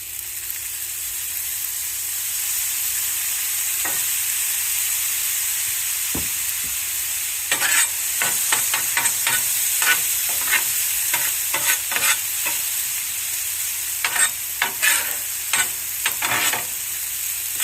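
Chicken fried rice with soy sauce being stirred in a hot pan, a steady loud sizzle that breaks midway into rapid, repeated scraping strokes of the utensil, close and continuous.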